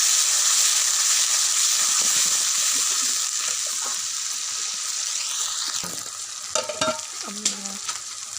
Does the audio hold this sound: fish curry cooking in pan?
yes